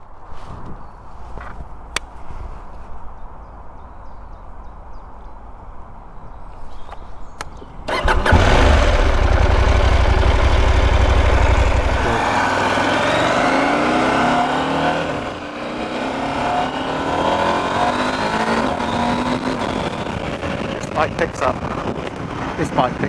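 A 2023 KTM 890 Adventure motorcycle engine starts after a quiet stretch, then runs loud and steady as the bike pulls away and accelerates, with a rougher, rising drone continuing to the end.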